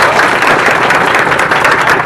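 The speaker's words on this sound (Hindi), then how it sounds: "इसके लिए एक बार जोरदार ताली आप लोग बजाइए" An audience applauds a top-ranking student at a school results gathering, steady dense clapping that fills the whole moment without pause.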